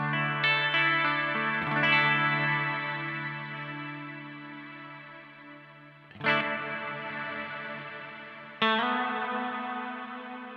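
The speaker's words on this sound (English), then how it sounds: "the first of the Shimmer Modes, which gives us that octave up sound" Guitar chords ring out through a Mad Professor Kosmos shimmer reverb pedal in octave-up mode, adding a bright octave-up halo, each strum swelling and slowly decaying; three strums in all.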